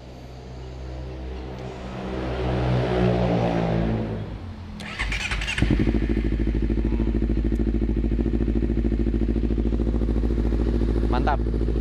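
A Honda CBR250RR motorcycle with an aftermarket Leovince exhaust cranks and starts, revs rise and fall, then it settles into a deep, loud, steady burbling idle; a voice is heard early on.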